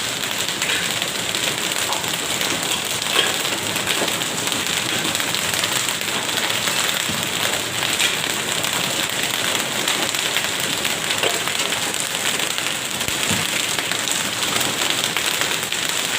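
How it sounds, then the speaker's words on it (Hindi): A dense, steady clatter of large hailstones pelting hard surfaces in Mianwali, loud and continuous, with scattered sharper impacts and no voices. "ये देखें कितने बड़े बड़े ओले पड़ रहे हैं"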